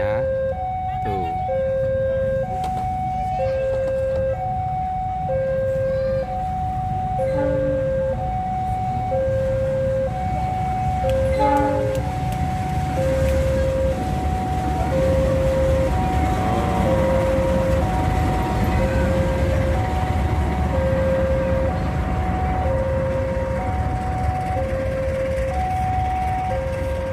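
A loud, steady two-tone warning horn blares in a repeating pattern over heavy rumbling machinery, as a train pulling tank cars rolls past a level crossing.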